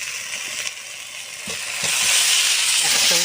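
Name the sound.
eggs, broccoli and potato being stir-fried in masala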